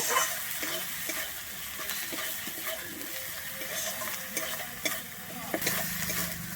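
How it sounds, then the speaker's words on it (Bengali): Kashmiri chili powder being stirred into a tangra fish curry in hot oil: a soft, continuous sizzle with repeated scraping strokes of a spatula against the pan and a few sharper clinks, no speech. "কাশ্মীরি লঙ্কার গুঁড়োটা দিয়ে কিন্তু আমি একটু ভালোভাবে এখানে মিশিয়ে নেব"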